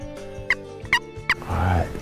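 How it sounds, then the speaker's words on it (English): A wild turkey gobbles loudly nearby in a rapid rattling burst, after a few sharp yelps and calls against a quiet outdoor background. "there certainly were a lot of turkeys gobbling this morning"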